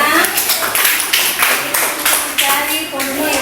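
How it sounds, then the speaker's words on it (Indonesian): Classroom applause for a classmate during a maths lesson, a burst of children's hand claps with distinct sharp slaps, fairly close and loud, with kids' voices mixed in. "Silakan duduk, tepuk tangan untuk temannya."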